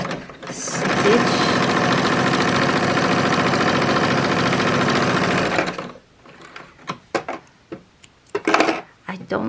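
A home sewing machine runs fast and steady for about five seconds, stitching a quarter-inch seam on a quilt-as-you-go square coaster, then stops, leaving scattered clicks and handling noises.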